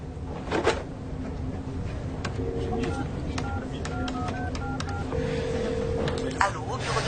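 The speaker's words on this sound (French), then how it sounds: "Il faut que j'appelle John Price" A telephone number is dialed as a quick sequence of short touch-tone beeps, fairly quiet indoors, with faint handling clicks and some speech around it.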